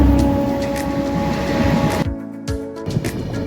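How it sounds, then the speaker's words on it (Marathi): The Hutatma Express pulls out of Solapur on its run toward Pune with a loud, steady low rumble and droning hum, which cuts abruptly to quieter rattling and clanks partway through. "आता जस्ट आपली ट्रेन सोलापूरवरून निघालेली आहे"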